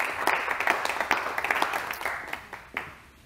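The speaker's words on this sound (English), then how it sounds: "everyone will give you a big round of applause as you come up" Audience applause with rapid, dense clapping from a live parlour magic show crowd, steady for about three seconds and then tapering off, with no voices over it.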